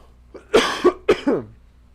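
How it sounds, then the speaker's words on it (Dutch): Two harsh coughs in quick succession from a person seated indoors during a live quiz stream, loud and close with nothing else around them. "ik ben af en toe aan het hoesten"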